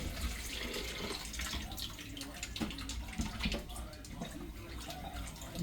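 Sorrel being washed under running tap water, a soft stream splashing and dripping in a sink with uneven bursts of sloshing, fairly faint throughout.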